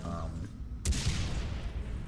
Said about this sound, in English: This is just a sniper rifle, but it's an explosive sniper rifle.